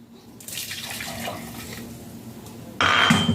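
Hot water is poured from a small cup into a mixture for a quick jelly dessert, a near, splashy stream that swells and softens, then surges louder in the final half second.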